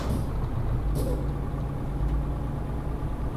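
A truck in Euro Truck Simulator 2 gives two short, sharp hisses of its air brakes over a steady, loud engine rumble, with a faint thump after them.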